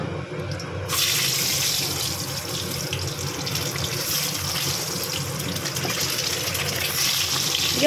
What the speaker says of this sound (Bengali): দিয়ে ডিমগুলো একটু ভেজে নেবো